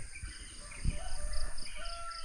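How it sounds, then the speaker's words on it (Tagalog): Morning birdsong on a rural farm in the Philippines, with a rooster crowing and scattered chirps over a faint background hum, all fairly quiet and distant. "tingnan naman ang maririnig dito pag umaga uni ng ibon yan"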